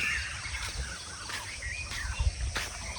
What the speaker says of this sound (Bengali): আর পাখির ক্যাচির মেচির শুনতেছি